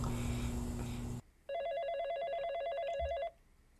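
Electronic telephone ringing in the horror game The Coffin of Andy and Leyley, one steady trill lasting about two seconds after an abrupt cut from louder background music, then stopping.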